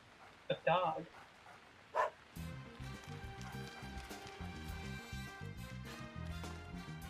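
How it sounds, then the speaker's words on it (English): A dog barks in the video game Deadly Premonition, a couple of short separate barks close by, before game music begins and continues. "A dog."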